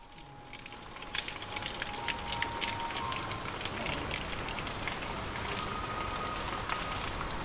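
Rain falls on a Dhaka street as a dense, even patter. Faint traffic hum sits underneath, and the sound stays steady throughout with no voices.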